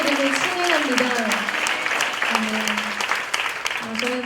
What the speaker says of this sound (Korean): 우리 언제나 찬양받게 합당하신 주님 앞에 감사와 찬양과 은혜의 박수 올려드리겠습니다.